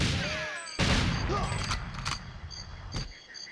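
Grenade blast in GoldenEye 007 on the Nintendo 64, a sudden broad burst followed by sustained rumbling debris and a few sharp follow-up cracks, with game ambience around it.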